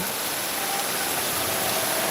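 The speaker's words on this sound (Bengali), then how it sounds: "মুসুলধারে বৃষ্টি হচ্ছে" Torrential rain hammers down in Dhaka as an unbroken, loud wash of falling water, close and constant throughout, with nobody speaking.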